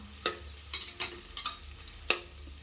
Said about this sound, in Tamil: வெங்காயம் நல்லா வதங்குதுங்க